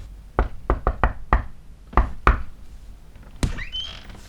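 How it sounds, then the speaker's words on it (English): Knuckles rap on a door: a quick burst of several knocks, then two more spaced knocks, followed by a louder thud and a faint creak, close and dry with no talking. "Can you knock first, please?"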